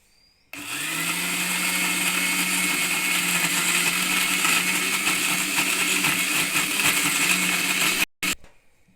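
A mixie grinds ginger and jaggery for allam pachadi, a steady, loud whirring motor that starts abruptly, runs for about seven and a half seconds without talk, then cuts off with a brief restart.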